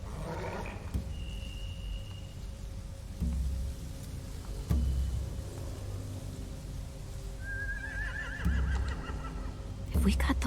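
Horses neigh and whinny in a Walking Dead video game scene, a couple of high shrill calls over a low rumbling backdrop with occasional thumps, while someone talks.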